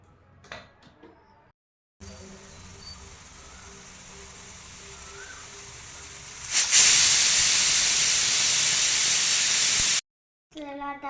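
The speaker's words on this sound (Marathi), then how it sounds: "आता कुकरचं झाकण लावून घेऊ आणि 4 ते 5 शिट्ट्या करून घेऊ." A pressure cooker cooking dal khichdi lets off steam, first a moderate steady hiss, then a loud, forceful whistling rush of steam lasting several seconds before cutting off abruptly.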